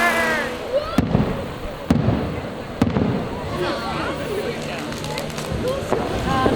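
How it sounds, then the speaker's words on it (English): Fireworks bang in sharp, widely spaced bursts at a cold Japanese night festival in Chichibu, with crackling between the blasts over a steady outdoor crowd murmur and people talking close by. "Fireworks!"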